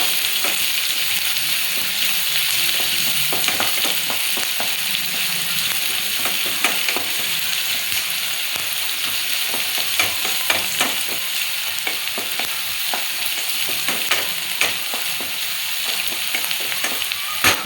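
Chopped onions with a pinch of salt fry in a pan for okra gojju, a steady broadband sizzle running throughout with scattered clicks and scrapes of stirring, close and fairly loud, no voices.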